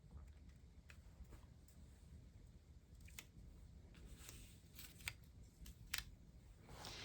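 Scissors snip paper word cards apart during a Montessori adjective lesson, a few faint, irregular cuts over a steady low background hum.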